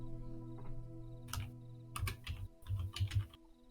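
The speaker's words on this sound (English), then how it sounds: "I was not listening. I was typing." Someone types on a computer keyboard in short bursts of quiet clicking keystrokes, separated by pauses over a low background hum, with no talking.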